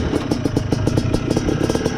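Yamaha Blaster 200cc quad engine revving up close, a rapid, clattery mid-pitched buzz with quick pulsing throttle blips over two seconds.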